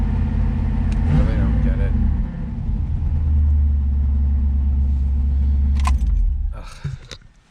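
A 1984 Chevrolet Camaro Z28 idling unusually high, a loud, steady low engine rumble close by that fades out near the end, while someone speaks briefly over it.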